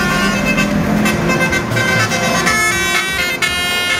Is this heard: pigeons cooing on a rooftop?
no